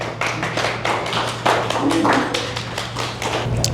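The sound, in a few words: audience clapping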